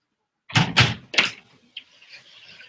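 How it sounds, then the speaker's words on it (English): An indoor door is pushed closed with a quick series of three thumping knocks and rattles as it swings shut and latches, followed by a faint scraping rustle, close and fairly loud in a quiet room. "I'm just gonna close the door really quick"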